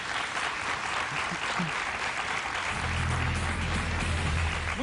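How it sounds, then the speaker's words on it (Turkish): Game show studio audience applauds steadily to open the second round of a Turkish word-and-number contest, a dense, even wash of clapping throughout, with a low hum entering partway. "hazırsak kocaman bir alkışla ikinci aşama başlasın"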